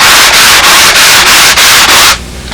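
A rough sanding belt glued down flat rasps loudly against a wooden edge in six rapid, even back-and-forth strokes, then stops abruptly into quieter shop noise.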